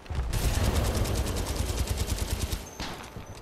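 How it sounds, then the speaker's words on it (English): Rapid semi-automatic pistol fire in Titanfall 2, a fast steady string of loud close shots filling several seconds before tapering off. "I'm running around with this semi-automatic pistol."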